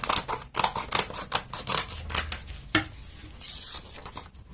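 Scissors cut through paper in a series of crisp, close snips and rustles, quick and somewhat uneven, with a brief pause before a few final cuts.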